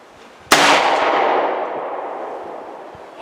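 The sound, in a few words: Rossi M92 .44 Magnum rifle gunshot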